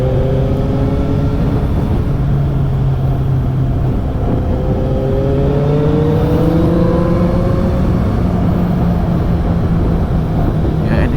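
A loud Kawasaki Z800 motorcycle engine drones steadily, its pitch rising and falling in long sweeps as the throttle is worked, with constant rumbling noise throughout.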